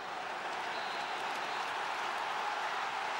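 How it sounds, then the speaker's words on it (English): A sold-out crowd of about 44,000 at Semple Stadium during a hurling match, a steady, dense roar of applause and crowd noise that holds at an even level throughout, with no individual voices standing out. "listen to the crowd in Semple Stadium"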